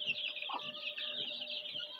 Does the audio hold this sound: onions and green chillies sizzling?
no